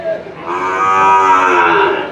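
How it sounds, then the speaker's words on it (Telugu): A single loud, drawn-out moo from a Holstein Friesian cow close by at a cattle market, low and resonant, lasting about two seconds with no other sounds. "ఇవి ఆవులు, ప్యూర్ హెచ్ఎఫ్ బుల్ వచ్చింది"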